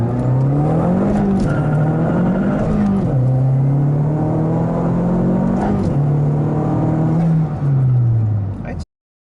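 A car engine fitted with new transmission and engine mounts revs up and drops repeatedly as gears shift, producing a steady rising and falling drone heard from inside the vehicle, close and continuous.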